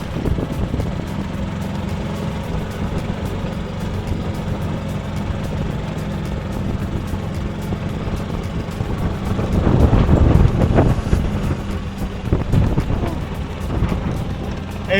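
A gas golf cart drives up a super steep road in the Abacos, its engine a steady low drone under heavy wind rumble, swelling louder as it strains partway through.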